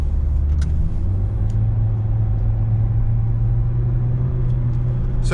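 A Nissan Sentra SR Turbo engine revs after a paddle downshift, a steady loud low rumble holding throughout with a few faint clicks, heard from inside the car.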